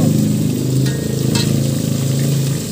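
Chicken being sautéed ginisa style in a pan, a steady loud sizzle and fry close by with occasional scrapes of stirring, continuous for the whole stretch.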